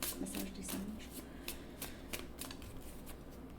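Oracle angel cards shuffled by hand, a close run of papery riffles and soft flicks repeating in quick bursts, fairly quiet and without talk.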